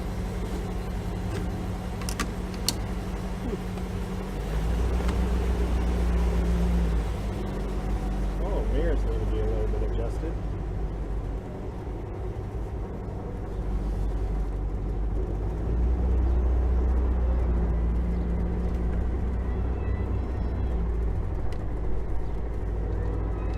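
A 1973 Volkswagen Thing, a barn-find car fitted with a new engine, drives along with a low, steady engine rumble that rises and eases with throttle, while people talk inside the car over it.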